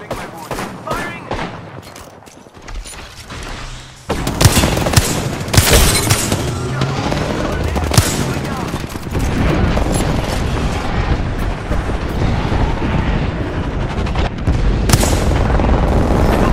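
Gunfire from an Apex Legends match: quiet game ambience at first, then from about four seconds a loud, dense run of rapid shots and booming impacts that keeps going to the end.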